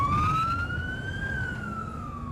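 A fire engine siren wails as firefighters respond, a single rising then falling tone sweeping slowly over low road rumble, fairly loud and close, with no talk.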